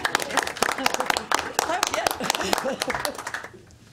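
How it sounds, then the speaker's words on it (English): A small audience at a town board of education meeting claps for several seconds, close and fairly loud, before the applause tapers off. "Give her a round of applause, too."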